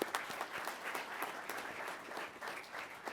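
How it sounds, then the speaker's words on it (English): A crowd claps steadily at an undergraduate pilot training graduation ceremony, a dense, even round of applause heard alone, without speech, from start to finish. "so if we could give them a round of applause"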